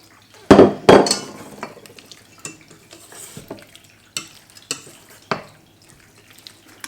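Pieces of chicken being stirred into a cornflour and milk batter in a bowl, with a few sharp clacks at the start followed by scattered soft wet knocks and clinks, close and otherwise quiet.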